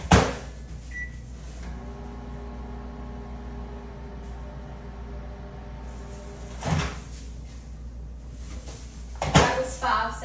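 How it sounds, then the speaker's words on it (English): A microwave oven heats chilled vegan pumpkin sugar cookie dough, humming steadily for several seconds between sharp clunks of the door opening and closing and a brief beep. "So I'm gonna put this one in the microwave for not as much as the orange one."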